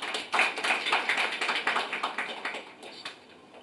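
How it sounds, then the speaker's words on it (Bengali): A small audience at a book launch claps together in a short burst of applause, close and lively at first, then thinning and tapering off over a few seconds. "আমরা কি একটা হাততালি দেব না?"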